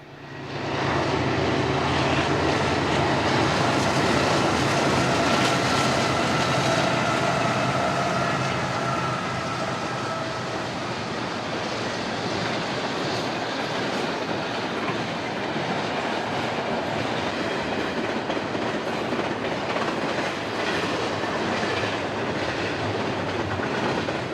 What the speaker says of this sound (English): Another train was fast approaching on Track 2, so we just kept the camera rolling.